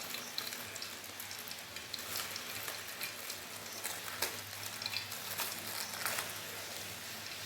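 Bay leaves crackle in hot oil in a pan, a faint, continuous sizzle with irregular small pops and spits running throughout. No voices are present.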